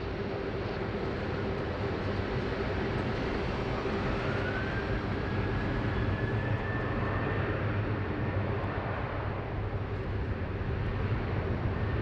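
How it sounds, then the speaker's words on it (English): Qantas airliner QF 926 takes off from Sydney Airport runway 16 right. Its jet engine roar is loud and steady throughout, with a rising whine layered over it. "Here we have now QF 926 taking off runway 16 right and he's heading to Cairns."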